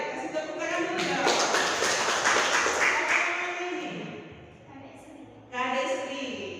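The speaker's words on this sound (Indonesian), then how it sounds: "Kasih tepuk tangan dulu dong." Classroom applause for a student, a burst of clapping from many hands that swells and fades, mixed with talking from children and a teacher.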